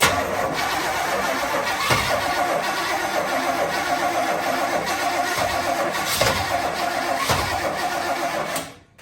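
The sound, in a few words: 1985 Chevy Suburban C20 engine cranking and starting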